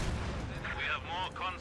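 Machine gun and artillery fire rumble through a Company of Heroes 2 battle, a steady low roar with bursts of fire, while someone talks over the combat.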